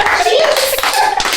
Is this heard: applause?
yes